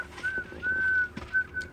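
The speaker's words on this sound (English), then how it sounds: "I whistle when I'm annoyed." Several sustained whistled notes from a person, clear and fairly close, with brief pauses between phrases and some soft background noise.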